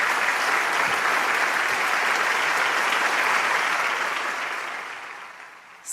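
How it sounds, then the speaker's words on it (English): Warm, steady audience applause welcoming True Mother at the 2021 Hyojeong Youth Blessing Festival, a full dense crowd sound that holds evenly before tapering off toward the end. "Let us welcome True Mother with a warm round of applause"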